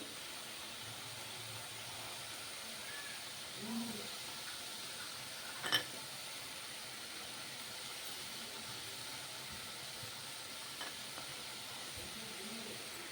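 Onions sizzling in a hot pan for a spinach and egg fry, a steady soft hiss running throughout at moderate level with a brief clatter near the middle and no talking.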